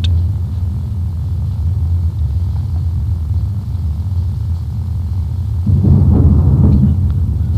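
A deep continuous rumble of thunder from lightning in Five Nights at Freddy's 3, low and steady, swelling louder near the end.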